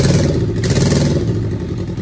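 A Suzuki Hayabusa turbo three-cylinder motorcycle engine running loud and close, a rough, steady, throbbing idle with slight rises in revs.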